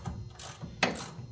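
Ratchet working 9/16 head bolts loose from a brake caliper on a classic car during wheel bearing replacement, giving two brief metallic clicking bursts close by in a quiet workshop.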